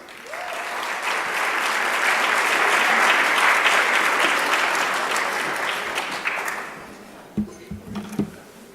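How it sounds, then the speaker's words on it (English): An awards audience at a Caribbean tourism industry ceremony in Jamaica breaks into a full, steady round of applause that swells, holds for several seconds, then tapers off, leaving a few scattered voices. "I'd like to ask you for a round of applause"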